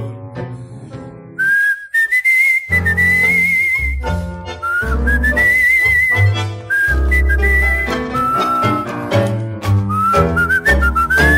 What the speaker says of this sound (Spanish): un reo meditabundo va silbando esta canción